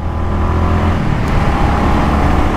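Bajaj Avenger 220 motorcycle engine running close by, a steady low rumbling drone with a slight rise in revs partway through, loud and continuous with no talking.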